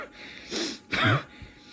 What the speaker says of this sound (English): I've still got the cough